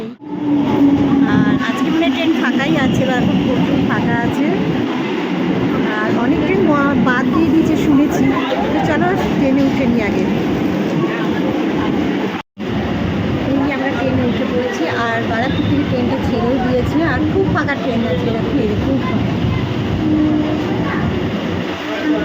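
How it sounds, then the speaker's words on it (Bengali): A train rumbles into a station amid loud, continuous crowd chatter, the noise sustained and close throughout. "এই আমাদের ট্রেন চলে এসছে"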